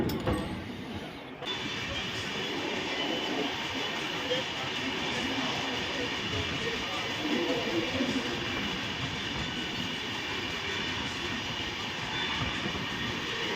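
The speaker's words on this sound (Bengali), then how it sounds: "বারেলি জংশন এখন ছেড়ে যাচ্ছে" The Jammu Tawi Express pulling out of Bareilly Junction, heard from on board as a continuous loud rumble of wheels and carriage noise, with a faint hiss at the very start.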